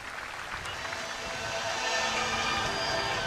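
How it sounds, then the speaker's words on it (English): A crowd at a women's cricket league final, Glamorgan against Gloucestershire, applauds and cheers for the winning team at a medal presentation, a dense, steady wash of clapping that swells slightly toward the end. "make some noise. Cheer every single one of them."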